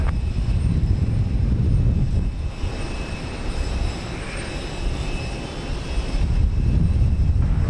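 A TAP jet takes off from runway 15 left at Houston Intercontinental, its engines a loud, sustained broadband roar close by that holds steady, dips slightly midway and then swells again, with no voices.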